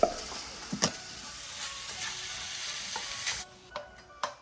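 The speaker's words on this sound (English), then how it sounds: "Creating a nice brown glaze over the Italian sausage." Italian sausage browns in a pan, sizzling steadily while a utensil flips and scrapes it, with a few sharp clatters against the pan and a short quieter stretch near the end.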